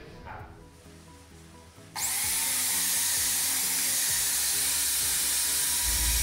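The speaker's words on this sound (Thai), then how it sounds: "รุ่นนี้เป็นแท่นจับสว่านนะครับเอาสว่านมือเรามาเป็นสว่านแท่น" After a quiet start, a handheld power drill mounted in a drill press stand whirs up abruptly and runs loud and steady, a continuous high motor whine that holds to the end.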